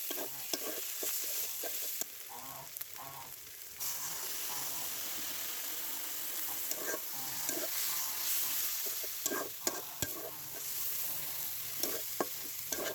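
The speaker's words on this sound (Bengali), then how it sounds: "এখন বাটা মশলাটা পেঁয়াজের সাথে নেড়ে মিশিয়ে" A spice paste sizzles and hisses with onions in a hot pan while a utensil scrapes and stirs it in repeated strokes, close by.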